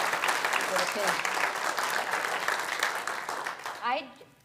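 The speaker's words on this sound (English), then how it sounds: "So you can get another round of applause." Audience at a temple annual meeting and volunteer appreciation event in Madison, Wisconsin giving a round of applause, steady clapping that fades out near the end as voices are heard speaking.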